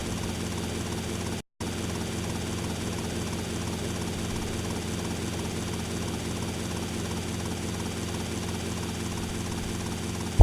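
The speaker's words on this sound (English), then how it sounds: "One downside to this helicopter is there's no radio." A helicopter in a video game flies with a steady, loud rotor and engine drone that continues throughout, broken only by a momentary cut, with no talk.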